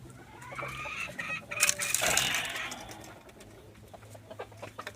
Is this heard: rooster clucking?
yes